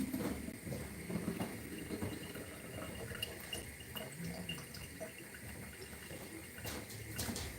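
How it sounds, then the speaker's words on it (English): Water from a tap runs faintly and steadily as hands are washed in a home kitchen, a soft splashing trickle with occasional drips and no speech. "Give your hands a nice little wash,"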